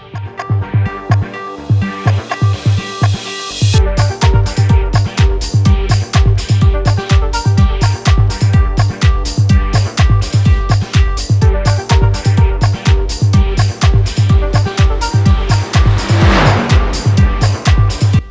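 A Mercedes AMG GT4 race car in iRacing roars loudly and continuously, its engine rising through the revs with rapid upshifts and sharp, rhythmic pulses, plus a brief tire squeal near the end.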